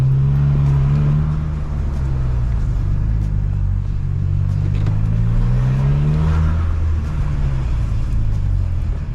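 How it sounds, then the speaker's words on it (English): A car being moved around on the road drones with a low engine rumble, and a faint grinding runs underneath it, with the pitch of the engine rising and falling gently. "That's the noise you can hear in the background, the grinding."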